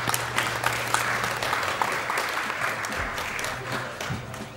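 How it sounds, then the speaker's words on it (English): Audience applause from a live crowd at a speedrun marathon event, a steady sustained clapping wash that holds evenly throughout, fairly loud and without a clear peak. "thank you for the claps"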